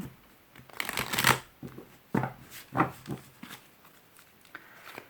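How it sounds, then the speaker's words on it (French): Oracle cards being shuffled and drawn close up: a few quick riffling bursts and soft slaps of cards, spaced irregularly over five seconds, fairly quiet with no talking. "Et je vais tirer hop, une petite carte, ou plusieurs, on va voir, du cosmos."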